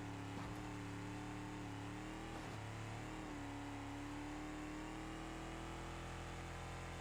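Steady engine drone from a tough truck in BeamNG.drive, a continuous mid-pitched hum with a brief dip and shift in tone as the engine falters, faint and unbroken with no voices.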